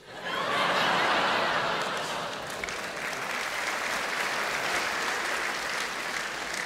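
A cabaret comedy audience bursts into sustained applause that swells quickly and holds steady and loud throughout, with a little laughter mixed in.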